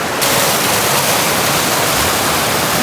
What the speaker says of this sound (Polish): O kurde, ale mocny nurt.